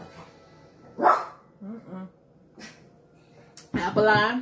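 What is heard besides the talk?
dog barking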